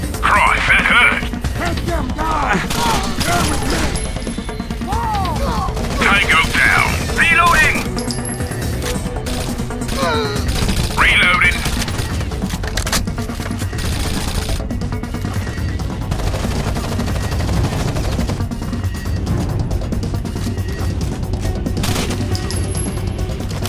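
Gunfire in the tactical shooter Rainbow Six: Vegas, with sustained bursts and crashing impacts filling the whole stretch under loud game noise, with occasional voices talking.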